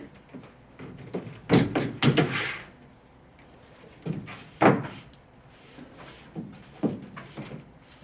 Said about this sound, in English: The bathroom door bangs open.